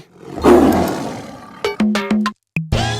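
A tiger lets out a deep, loud roar up close, followed by a string of sharp, abrupt impact-like bursts and clatters.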